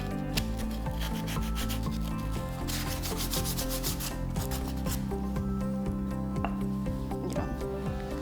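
Continuous rhythmic scratchy rubbing of sandpaper on a wooden book stand, close up, with repeated back-and-forth strokes and no talking.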